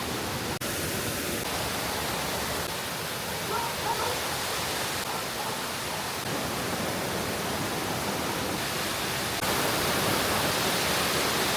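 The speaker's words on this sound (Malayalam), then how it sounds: "ഇരുമ്പുപാലത്തിൻ്റെ സുന്ദര വെള്ളച്ചാട്ടമാണ് ചില്ലിത്തോട് വെള്ളച്ചാട്ടം" Chillithodu waterfall at Irumbupalam near Munnar roars in a broad, steady rush of falling water, loud and continuous throughout with slight swells in level, with no voices over it.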